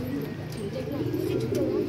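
A pigeon coos softly a few times amid low background noise, the calls faint and somewhat distant.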